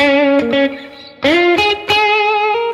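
An electric guitar plays a Chicago blues major pentatonic phrase with a slightly distorted vintage tone: a few sustained, ringing notes, some bent up in pitch, with short gaps between them, played solo with no accompaniment.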